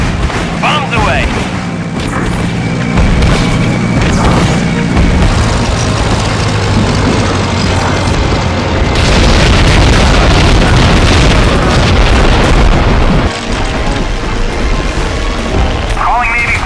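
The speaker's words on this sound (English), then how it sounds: "Approach for airfield. Bombs away!" Bombs explode in the World War II flight game Heroes of the Pacific during an airfield attack, with sustained loud rumbling blasts and booms layered over continuous engine drone for the whole stretch.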